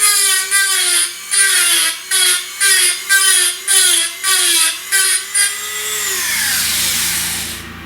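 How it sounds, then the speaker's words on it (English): A Dremel fitted with a metal cutting bit cuts out a hole in metal for a Stutz Bearcat cyclekart, giving a loud, close, high whine in about nine short bursts, then one longer run that winds down into a fading hum. "Use the Dremel tool with a metal cutting bit in, and I'm just taking it out to the line that hole saw left"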